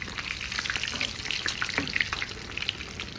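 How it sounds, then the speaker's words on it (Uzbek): Meat cutlets fry in oil in a pan with a steady, close crackling sizzle and sharp spitting pops scattered throughout. "Hozir bir tomoni qizarib oladi, keyin ikkinchi tomonini o'giramiz."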